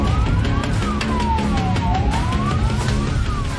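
An ambulance siren sweeps up and down in pitch amid road traffic noise, steady and fairly close, with engine rumble underneath.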